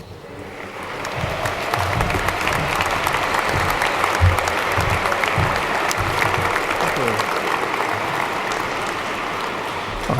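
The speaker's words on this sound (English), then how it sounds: "I don't usually get a round of applause before I've said anything" Sustained audience applause in Liverpool Cathedral greeting Chancellor Brian May, a dense, loud roar of many hands clapping steadily for about ten seconds, reverberant and unbroken.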